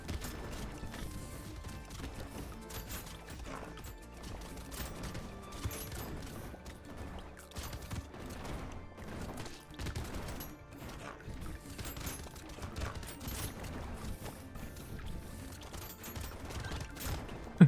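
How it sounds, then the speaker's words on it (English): Rapid, dense volleys of explosions from many nuke launchers attacking at once in Brotato, a frantic stream of crackling blasts and mechanical clatter that runs without a break. "we're attacking so fast with so many nuke launchers"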